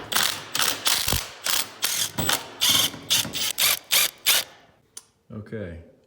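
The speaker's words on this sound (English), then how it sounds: "and then drive the screws back in." Ratchet clicks in repeated quick bursts as Allen screws are driven into a Tusk handlebar riser on a KLR650 motorcycle, close and loud, with short pauses between strokes and a brief thump near the end.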